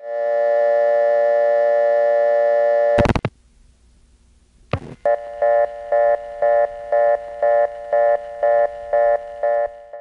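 Telephone exchange test line after dialing 2: a steady tone, then sharp mechanical clicks and a pause, followed by a regular on-off pulsing tone repeated about ten times, clear and close.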